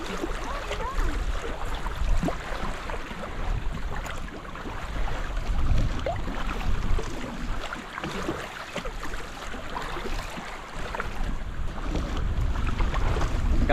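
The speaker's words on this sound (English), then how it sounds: "Gosh, it is windy." Strong wind roaring and buffeting the microphone while paddling a foldable kayak around an island in choppy water, a steady, rough rushing noise with gusty swells throughout and no talk.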